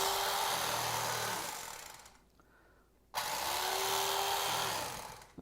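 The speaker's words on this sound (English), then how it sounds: "if I use an electric knife, I'm going to be able to cut some slices" An electric knife slicing a loaf of hot bread gives a close, steady motor whir in two bursts, with a brief pause between them before the blade starts up again.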